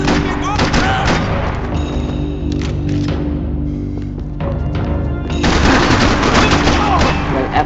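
Loud bursts of gunfire and heavy shots in Max Payne 3 fill a tense firefight, with sustained rapid volleys near the start and end and a brief lull in between.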